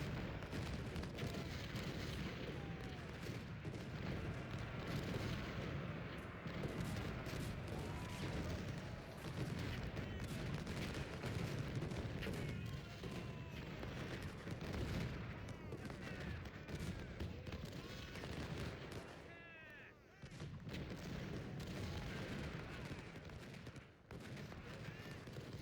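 Cannon and massed gunfire from the Ultimate General: Civil War video game at the Battle of Chancellorsville, a dense, continuous roar of booms and volleys that stays loud throughout with barely a pause.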